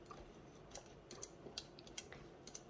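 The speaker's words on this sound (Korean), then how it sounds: "3번 반죽도 가위로 이렇게 놓아주신 다음에 손으로 조금씩 눌러줘." Scissors snip corn bread dough during home baking, a handful of short, crisp clicks scattered in quick irregular succession over a quiet kitchen background, with no talking.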